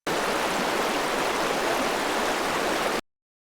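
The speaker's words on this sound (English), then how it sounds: "You feel the cool breeze and hear the sound of water." Steady rushing river water flows continuously, loud and close, then cuts off abruptly.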